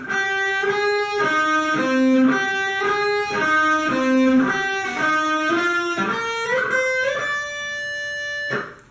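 Electric guitar plays a song, a clean melodic line of repeated single notes in a steady rhythm, climbing higher before a final held note cuts off.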